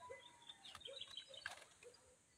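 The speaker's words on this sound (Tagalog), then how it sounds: "Ating manok na isa." Hens in a newly built coop, about to lay eggs, give faint, scattered clucks and short calls, quiet and a little distant against a low background hiss.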